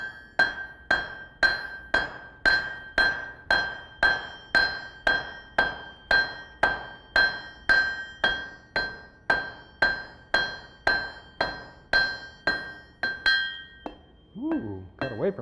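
A blacksmith at the Rocky Mountain Smiths Conference strikes hot forge-welded steel on an anvil. About twenty loud, ringing hammer blows fall in a steady rhythm, each with a bright metallic clang and decay, before a brief softer scrape at the end.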